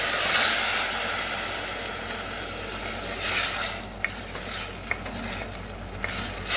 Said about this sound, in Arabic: انزل بعصير الطماطم